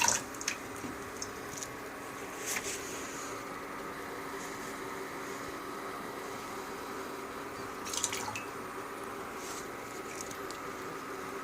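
Hot soaking water poured off beans trickles and splashes softly as it drains, with a faint continuous rushing and a few louder drips and splatters.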